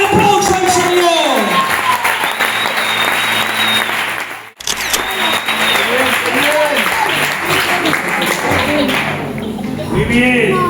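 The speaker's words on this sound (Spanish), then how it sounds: "Dale un aplauso al Señor." Church congregation applauding during a Spanish-language service in Constanti, a loud sustained crowd clap with cheering voices and music tones, briefly cut near the middle, then continuing strongly under singing and speech.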